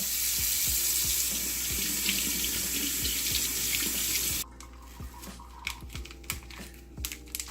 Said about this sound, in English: So we're just gonna run this under warm water